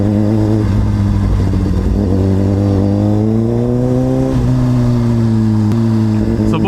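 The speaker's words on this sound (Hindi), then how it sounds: "बाइक जो है ना वो फुल फ्लेम्स वाले बैकफायर मार रहा है" Suzuki GSX-R 1000RR motorcycle engine running loud and close, a sustained rising drone with revving pitch changes and a few sharp pops near the end.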